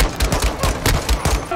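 Rapid bursts of light machine gun hip-fire in the shooter game Modern Warfare, a near, loud rattling stream of shots with several short pulses in quick rhythm and no talk over it.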